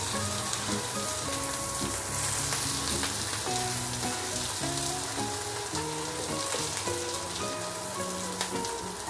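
Pork belly (liempo) frying with onion in a pan, a steady dense sizzle with crackling spatter running throughout, loud and close, with background music and no talk.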